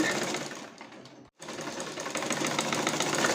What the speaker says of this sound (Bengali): আমি 2 ইঞ্চি কাপড় দিয়ে সালোয়ারের ফিতার মতো করে সেলাই করে নিচ্ছি